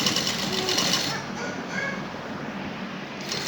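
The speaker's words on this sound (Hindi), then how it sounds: "अब इसको हम इसको दूसरी तरफ फोल्ड करेंगे, और ये इसके साथ साथ सिलाई लगाएंगे।" Sewing machine stitching a magzi dori neckline: a continuous close mechanical whirr of fast stitching that runs through the whole stretch without pause, at an even loudness.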